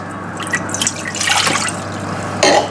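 Water poured into a pot for Blue Band béarnaise sauce powder, a light splashing trickle with scattered drips that swells midway and ends in a brief louder gush.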